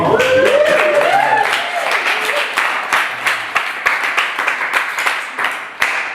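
A live audience at a comedy show applauds comedian Jason Brent, a dense burst of clapping at first that thins into scattered, sharper claps and whoops, close and fairly loud throughout.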